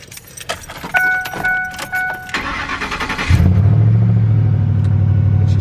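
A straight-piped V8 in a red BMW E46 with its EGR deleted: keys jangle, the starter cranks briefly, then the engine catches and settles into a loud, deep, steady idle rumble.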